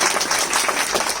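An audience at a business training seminar breaks into a short burst of dense, steady applause that fills the room.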